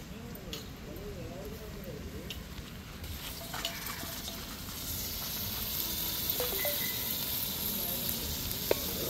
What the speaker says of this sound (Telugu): ఇప్పుడైతే శుభ్రంగా కడిగి పెట్టుకున్న చికెన్ కూడా వేసేసుకుందాం.